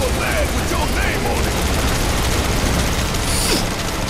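A giant robot boss in Final Fantasy VII Remake fires on the player during a motorcycle fight, producing continuous rapid gunfire mixed with a steady engine roar and clanking mechanisms.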